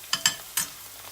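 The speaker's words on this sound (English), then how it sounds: "Also add the chopped onions which are remaining and stir them properly for some time till they are cooked" Chopped onions frying in a pan for a sea bass curry, with about three quick scraping stir strokes over a low steady sizzle, close and clear with no speech.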